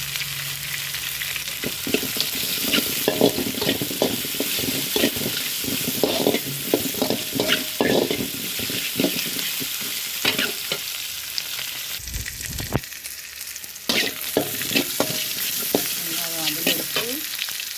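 Tomato chutney ingredients with rock salt are stirred and sautéed in a pan, with repeated close scraping strokes of the spatula over a constant hot sizzle.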